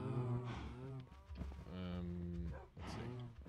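Cows in the Minecraft video game mooing: several drawn-out, low, tonal moos one after another, fairly loud and clear, with no talking over them.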